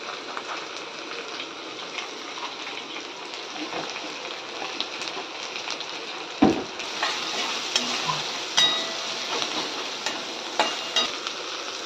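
Steady sizzling and frying fill a home kitchen as ingredients for a methi bhaji meal are roasted in a pan until reddish, with a spoon repeatedly scraping and stirring through the hiss.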